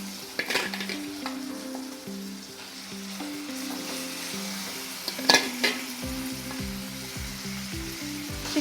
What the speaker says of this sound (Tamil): சிக்கன் சேர்த்துட்டு இதை ஒரு மிக்ஸ் கொடுத்துக்கலாம்